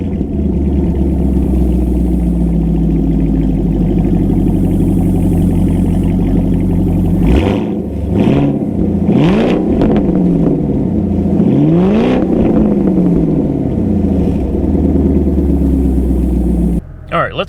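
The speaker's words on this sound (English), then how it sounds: "I'm going to give you guys a quick startup, rev, and then we'll take it on a drive" A 2016 Chevy Camaro SS with an MBRP exhaust rumbles loudly at a deep idle, then barks through several sharp revs in the middle before settling back to idle.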